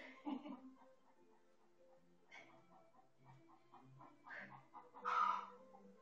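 Chickens cluck softly in the background, a string of short, irregular clucks and squawks at a distance, with one louder call near the end.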